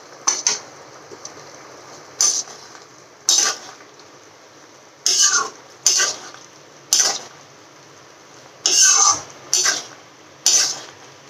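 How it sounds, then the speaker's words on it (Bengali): A spoon or spatula scrapes and clinks in a pan while a vegetable chhechra is mixed: about nine sharp, close scraping strokes at a steady pace, with faint sizzling between them and no talk. "এবং ভালোভাবে এটা মিশিয়ে দিচ্ছি।"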